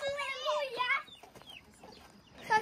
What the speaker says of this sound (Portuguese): Olha o tamanho dessas galinhas.